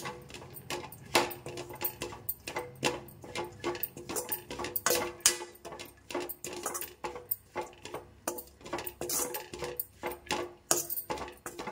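Diced sweet potato being sautéed in a pan for payasam makes a rapid, uneven series of sharp scraping and clinking strikes as a metal spatula tosses the pieces, steady and close, with no voices.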